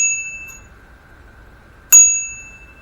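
A cheap bicycle bell, a part for a new electric bike, gives a short ring that fades, then a single louder ding about two seconds later, close and otherwise alone.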